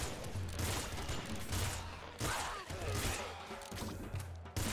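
Rapid bursts of gunfire from a burst weapon in the game Nuclear Throne (Ultra Mod), dense repeated shots with crashing impacts layered over steady game music.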